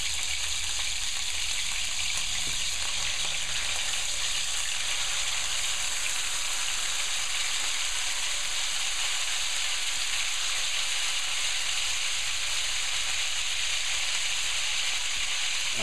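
Steak frying in hot oil on medium heat in a pan, a loud, steady, close hiss of sizzling that runs unbroken with no talking.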